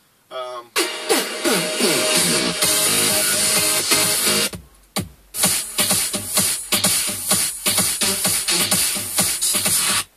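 Percussive drum part from a remix in a studio, with dense rhythmic hits and steady loud energy, a brief drop near the middle before the beat resumes.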